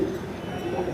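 Teddy pigeons coo in a home loft in Santacruz East, a brief soft low cooing close by under a voice.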